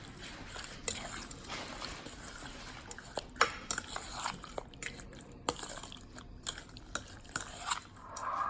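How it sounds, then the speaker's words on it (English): Shrimp being stirred in a marinade, with irregular soft clicks and scrapes of a utensil in a bowl, moderately close and fairly quiet, with no talking. "we're gonna mix it"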